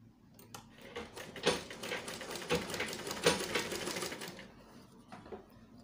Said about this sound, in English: sew the pocket facing to the front piece of our trouser